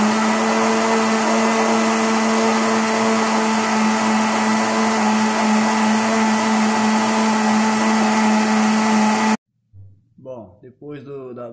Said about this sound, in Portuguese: E aqui eu vou bater o aipim.